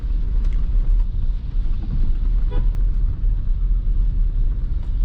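A new Toyota Fortuner driving in rain on a busy road gives a loud, steady low rumble of engine and tyres, with a brief faint tonal blip partway through.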